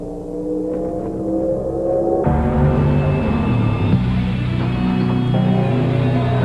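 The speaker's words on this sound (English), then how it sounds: "Miller Genuine Draft Rusty Wallace stock car." A Miller Genuine Draft Rusty Wallace stock car engine roars loud and close, revving up sharply partway through into a sustained high-pitched racing drone with dense harmonics.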